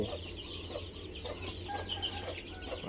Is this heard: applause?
no